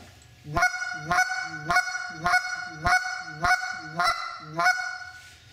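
Sharp, clipped goose clucks blown through the front of a goose call, about eight evenly spaced blasts, loud and close, with no talking.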